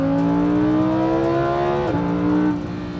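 Lamborghini Huracán EVO engine revving, a loud, close, steady mechanical roar that holds its pitch, dips briefly near the end and then settles lower as the revs fall away.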